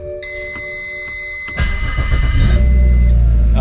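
A BMW E90 with an N54 engine starts after a fuel pump install. A steady warning chime and tonal beeps come first, then the starter cranks and the engine catches and settles into a loud, slightly uneven idle.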